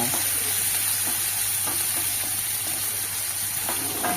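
A large chopped onion and cashews fry in oil in a pan with a dense, constant sizzle, and faint stirring scrapes fall now and then.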